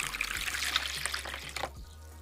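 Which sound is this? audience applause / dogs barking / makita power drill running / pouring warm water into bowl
pouring warm water into bowl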